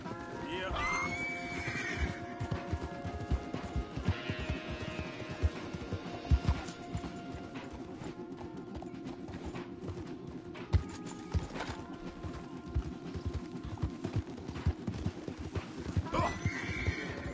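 Horses in the Red Dead Redemption 2 video game clip-clop along a path with dense, steady hoofbeats and occasional neighs, loud and close. Voices talk over it.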